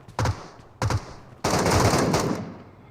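Gunfire in the video game PUBG Metro: two short, sharp shots, then a longer rattling burst that fades out.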